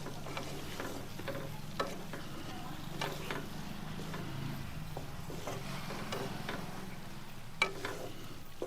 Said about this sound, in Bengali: নিয়ে এদিকে পটল কষানো হয়ে গেছে, পটলের মধ্যে ঢেলে দেবো, দিয়ে ভালোভাবে নেড়ে ছেড়ে দেবো।